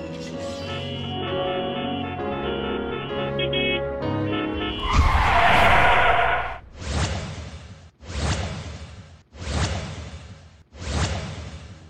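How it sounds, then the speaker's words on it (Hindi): A road vehicle brakes hard, first with a long swooshing screech of tyres, then with several separate loud skidding squeals in a row, after a stretch of background music. "सड़क से गुजरते हुए अचानक गाड़ियों के ब्रेक लगाने की आवाज सुनकर सब चौंक कर देखते हैं।"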